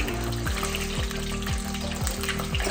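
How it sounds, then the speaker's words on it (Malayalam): Garlic, shallots and ginger sauté in hot mustard oil in a kadai for mango pickle, a steady close sizzle with a low recurring hum under it and no talk. "ഇഞ്ചി ഇതിട്ട് വഴറ്റും."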